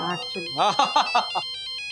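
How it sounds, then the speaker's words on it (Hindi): A phone ringtone plays a bright repeating electronic melody in short beeping notes, near and moderately loud, with a voice overlapping part of it in a Hindi comedy drama scene. "आशा ताई का फोन आ गया।"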